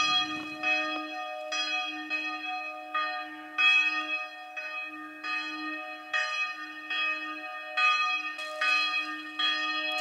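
A church bell rings repeatedly in a steady, unhurried rhythm, each clear metallic strike lingering before the next.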